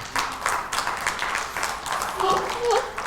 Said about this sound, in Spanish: Vamos a darles un aplauso a nuestros jóvenes.